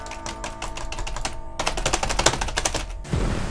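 Rapid, dense clicking of a computer keyboard and mouse during a GTA 5 stunt race, loud and close, coming in quick bursts with no talking.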